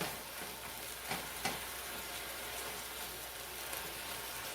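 Balsamic vinegar stirred into mushrooms sizzling in a pan gives a steady, quiet frying hiss, with a few soft utensil scrapes standing out.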